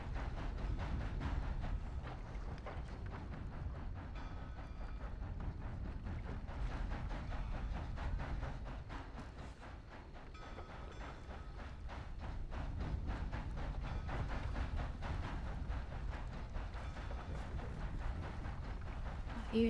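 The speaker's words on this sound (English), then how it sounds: "I hear the train a-coming. It's coming round the bend." Train in a video game rolling toward the listener and easing down in speed, a low rumble with steady clatter and rhythmic clicks building and holding at moderate loudness across the whole stretch.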